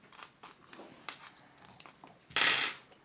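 Small metal coins clink and rattle in a few short bursts at close range, ending in a louder scraping jingle as the loose change is gathered and counted by hand.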